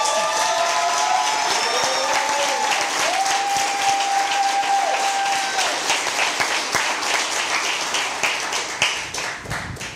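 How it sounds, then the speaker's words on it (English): Steady audience applause from a full room fills the whole stretch, dense and loud, thinning slightly toward the end, with a faint tonal hum drifting underneath. "Hey, man, gotta clap it up."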